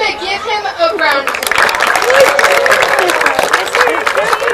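Audience at a farm animal show claps and cheers in a sustained burst of applause with crowd chatter, following a presenter's voice, close and lively throughout.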